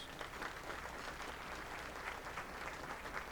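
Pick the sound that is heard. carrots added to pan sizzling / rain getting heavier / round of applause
round of applause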